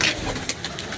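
Pigeons coo softly in a brief, low murmur that rises once or twice over a steady background hiss.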